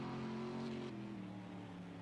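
A race car engine holds a steady high drone in fifth gear in a racing video game, heard briefly and faintly as the car runs at speed.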